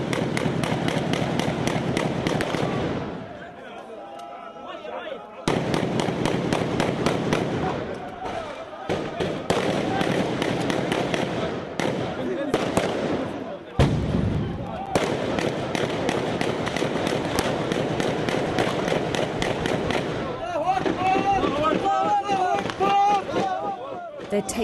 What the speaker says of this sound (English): taking it in turns, they fire one by one inside the house